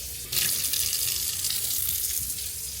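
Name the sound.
water poured into flour for sourdough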